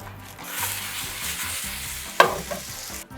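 Matzo brei, matzo mixed with eggs, sizzles steadily in a frying pan, a close, even hiss with soft stirring scrapes and one sharp clack of a utensil near the end.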